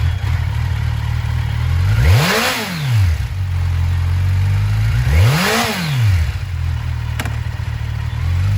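A used 2011 Kawasaki Ninja 1000 sport touring motorcycle idles up close, and its engine is revved twice. Each rev rises sharply and falls back to a steady, loud idle, with no one speaking.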